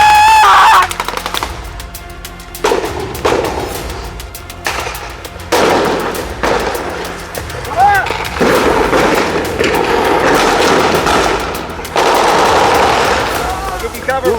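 Blank gunfire at a WW2 reenactment crackles in repeated bursts, some rapid like a machine gun, loud and close, with shouting voices in between.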